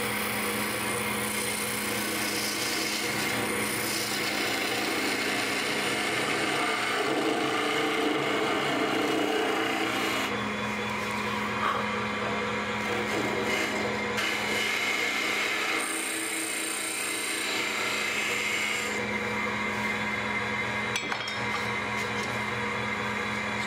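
A big chisel cutting a spinning wooden Christmas tree piece on a woodturning lathe, a continuous loud scraping hiss over the steady motor hum, changing in tone as the cut shifts.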